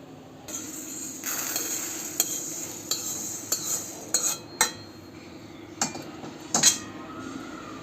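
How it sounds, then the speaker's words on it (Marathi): Roasted urad and moong dal scraped from a pan onto a plate, with metal spoon clinks and scrapes ringing out at irregular intervals over a steady low hum. "आपली उडदाची डाळ आणि मुगाची डाळ भाजून झाली आहे ती आपण काढून घेऊया प्लेटमध्ये"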